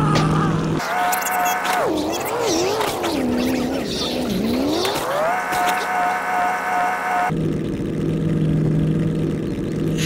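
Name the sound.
car driving in the video game Apocz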